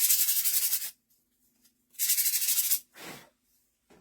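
Christmas light-up ornaments are sanded by hand in three rasping strokes, two long and one short, each separated by a brief pause, close and fairly quiet.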